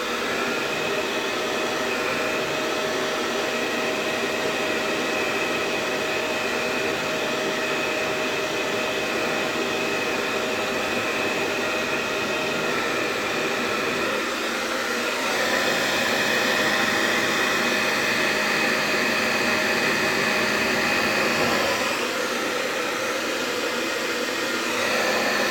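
A hair dryer blows hot air onto a mustache, a steady, close airy roar that holds for about 25 seconds with slight shifts in tone as it moves.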